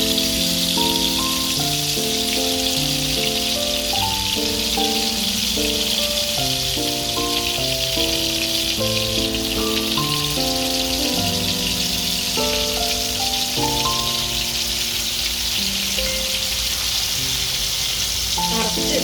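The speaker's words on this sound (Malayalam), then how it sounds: "കല്ലുമ്മക്കായ നമുക്ക് ഫ്രൈ ചെയ്തിട്ടെടുക്കാം." Stuffed blue mussels fry in hot oil with a steady, dense sizzle that runs the whole time beneath a melodic music track.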